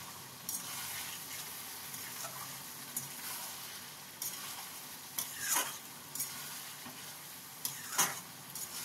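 Chilli chicken sizzles softly in a pan while a spoon stirs it, making intermittent scraping and clinking strokes over a low steady fry, with no voices.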